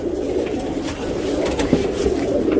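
A male Dumar pigeon coos close by in a low, steady, throaty rumble that continues through the whole moment.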